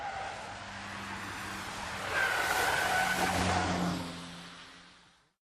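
A car on stock suspension runs a wet slalom, its tires squealing in a sustained, wavering screech over engine and road noise. The squeal swells loudly midway, then fades as the car moves off.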